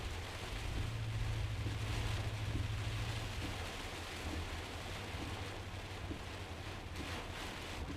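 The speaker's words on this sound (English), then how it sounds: "some serious rain coming down" Heavy rain pours steadily during a storm near Tallahassee, Florida, a dense and constant wash of sound with a low rumble of wind or vehicle noise underneath.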